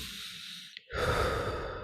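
A person imitates the pursed-lip breathing of an obstructive lung disease patient: a soft, prolonged exhale, a brief pause, then a louder, breathy rush of air, close up with no talk.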